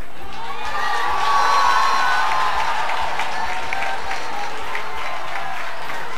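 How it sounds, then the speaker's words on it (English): A church congregation claps and cheers together, loud sustained applause with whoops and raised voices mixed in, including children shouting. "Somebody clap for Holy Ghost."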